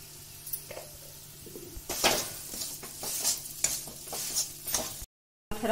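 Spiced moong dal with turmeric, kasuri methi, red chili and salt stir-fried in a pan: steady sizzle with repeated scraping and stirring strokes, loud and close, ending in a brief silence.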